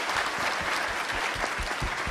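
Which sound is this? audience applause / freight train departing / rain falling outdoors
audience applause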